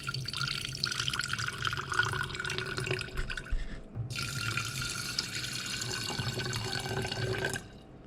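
Water pours from a tap over mung bean seeds set to soak for sprouting. It is a steady, splashing stream that briefly dips near the middle, then continues before stopping abruptly just before the end.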